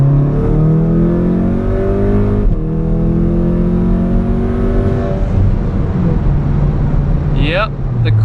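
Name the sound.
Stage 2 tuned Golf R accelerating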